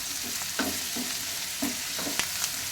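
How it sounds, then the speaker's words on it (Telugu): Ginger garlic paste stirred and fried in a pan for a Rayalaseema-style ladyfinger curry: steady sizzle with several soft spoon scrapes and clinks at irregular intervals, close and moderately quiet. "అలాగే అల్లం వెల్లుల్లి పేస్ట్ వేసుకోవాలి. బాగా కలపాలి."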